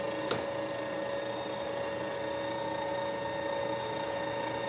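Two-stage high-low electric motor of an Enerpac P142 hydraulic pump running, a steady, even motor hum with a faint whine and a single brief click near the start, no voices.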